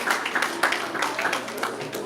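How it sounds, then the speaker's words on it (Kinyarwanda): Wedding engagement crowd claps in a burst of applause, a dense patter of many hands with a voice speaking over it throughout. "Mwongera amashyi, mwongera amashyi menshi"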